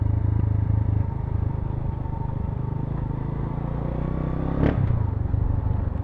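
Motorcycles and cars roll steadily past on a town street in San Jose, Batangas, a continuous loud rumble of engines with a brief clattering pass near the end.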